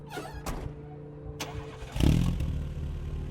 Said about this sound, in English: Firing up her black Vauxhall Corsa